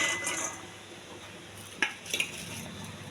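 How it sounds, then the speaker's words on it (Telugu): Carrot fry ingredients (oil, green chillies, grated fresh coconut and curry leaves) are tipped into a cooking vessel, giving a couple of faint, quick metallic clinks over a quiet kitchen background. "ఇవి ముందుగా ఒక ఓల్స్ గిన్నెలు వేయాలండి."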